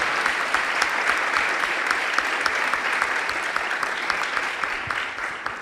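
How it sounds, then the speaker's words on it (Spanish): Warm audience applause greets a guest speaker at a talk on cannabis in Chile, dense sustained clapping with sharp individual claps poking through, fading slightly toward the end. "Le vamos a dar un caluroso aplauso y bienvenida"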